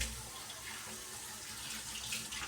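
Tap water runs steadily into a kitchen sink while vegetables are washed for a breakfast dish, a continuous close hiss and splash with no talking.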